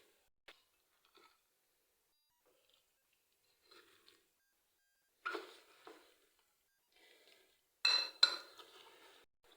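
A spoon clinks and scrapes in a bowl while chicken tender marinade is mixed with spices and garlic, sparse faint taps at first, then a few louder clattering bursts near the end.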